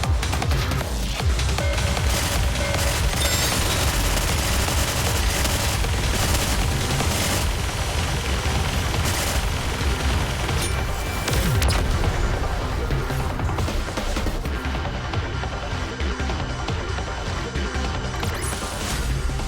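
Dense, continuous game combat from Goddess of Victory: NIKKE, with rapid gunfire, crashes and booms layered throughout at a steady loud level and no pauses.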